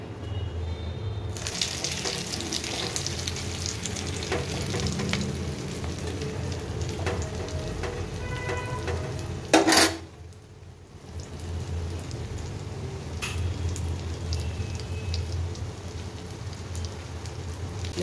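A continuous hiss of Maggi noodle pakoras frying in hot oil, steady and close, briefly broken by a sharp crackle and a short dip in the sizzle.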